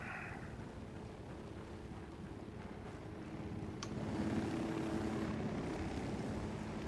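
Helicopter in the Ghost Recon Wildlands video game, a steady rotor drone that swells slightly as it comes closer, with no speech.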